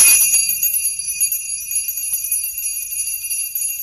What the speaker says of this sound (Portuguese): Também nós temos a sineta, né, os sinos, que são utilizados pelos coroinhas,